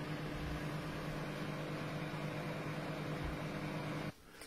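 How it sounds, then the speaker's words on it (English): A microwave oven heating Oreo mug cake batter gives a steady, close mechanical hum with a fan-like whir, running evenly before cutting off abruptly near the end. "I'm going to pop it in the microwave for a minute"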